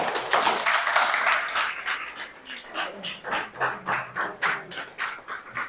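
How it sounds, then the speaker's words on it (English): Classroom of students applauding a classmate, scattered claps building into a brisk rhythmic round that pulses steadily, moderately close. "Give him a round of applause."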